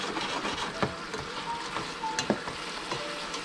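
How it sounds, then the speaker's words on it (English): Wine hitting a hot sauté pan produces a steady broadband sizzle and crackle, with a few faint clinks and soft taps over it, heard close and moderately quiet. "gotta love the sound of wine hitting that saute pan"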